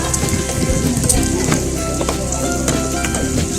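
Garlic fries in a pan with a loud, dense, continuous sizzle up close, crackling steadily with faint stirring scrapes and no talking.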